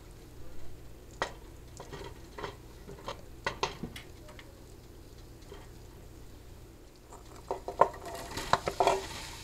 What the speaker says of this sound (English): Put the empty pasta pot back on to a medium-high burner and start melting your butter.